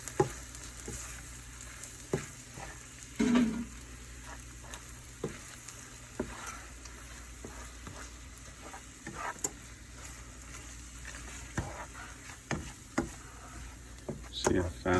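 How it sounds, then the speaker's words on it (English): Eggs scramble in a hot pan, with a soft continuous sizzle broken by scattered clicks and scrapes as they are stirred around. "they're going to get scrambled as we cook. Mix them all around here."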